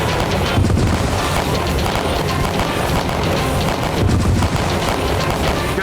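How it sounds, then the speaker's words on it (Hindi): Dense, continuous volleys of gunfire and booming blasts in a battle scene from a drama about Maharana Pratap and the Mughal army at Chittor, loud and chaotic, with no clear pauses between shots. "अपने सिपाहियों पर गोलियां बरसा रहा है।"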